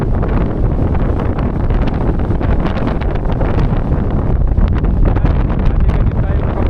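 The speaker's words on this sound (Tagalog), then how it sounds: "Lakas ng hangin. Yung sombrero ko natatangay na." Strong wind on Malico Road buffets the microphone in a continuous, loud roar with no break.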